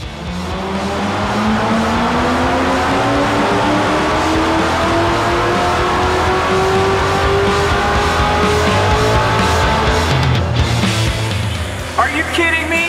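Nitrous-boosted car engine, about 720 horsepower, revving hard during a power run, a loud sustained rising roar held for several seconds before cutting off abruptly.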